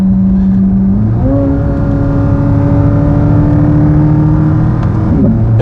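A matte black Corvette Z06 with the Z07 package drones loudly from inside the cabin, then its engine pitch steps up and holds as it accelerates, with a quick downshift blip near the end.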